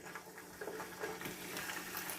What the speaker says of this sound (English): it'll start frying them up as soon as it hits the pan